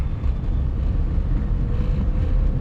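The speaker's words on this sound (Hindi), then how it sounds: "अब सिर्फ इंजन की आवाज़ आएगी अंदर। अब मैंने AC भी ऑन कर दिया है, तो अब देख लो कुछ इतनी आवाज़ आती है यार" Steady low rumble of a Tata Nano's small engine heard from inside the cabin with the air conditioning running, a continuous droning hum with no talking.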